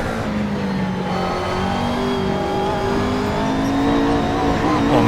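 A McLaren race car engine in the Assetto Corsa racing game drones loud and close, its pitch climbing steadily as it accelerates, with tonal whine layered over a continuous roar.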